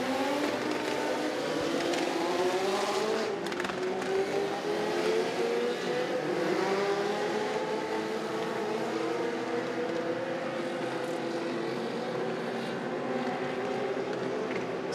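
Legends race cars circle Southside Speedway behind a pace car under caution, their engines forming a continuous droning pack sound whose pitch rises and falls as they pass, with no talk over it.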